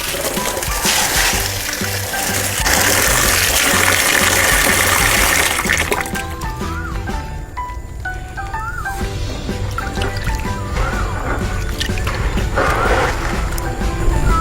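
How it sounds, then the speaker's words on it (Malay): Mung beans swished and rinsed in a bucket of water for sprouting, giving steady close sloshing and pouring with a loud wash in the first half, then lighter trickling and dripping under faint background music. "kacang tersebut akan dicuci sebanyak 2 hingga 3 kali sehingga betul-betul bersih"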